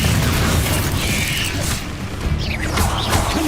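Loud magical slam and crash from the Descendo spell in Hogwarts Legacy, a dense booming, creaking impact with mechanical rattle and a brief whooshing sweep near the end, no talking.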